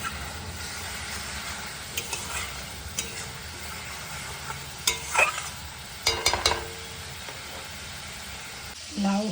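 Fish curry stir-fried in a pan in a Bengali home kitchen, a steady low sizzle broken by intermittent scraping and clinking of a spatula against the pan.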